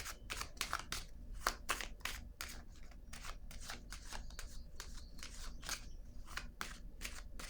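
Cards handled during a card reading: a steady run of soft, crisp papery snaps and rustles, close and fairly quiet, repeating rapidly throughout without any talk.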